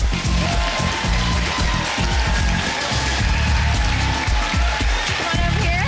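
Studio audience applause on a family game show, a steady dense wash of clapping and crowd noise lasting throughout, loud and continuous with scattered voices mixed in.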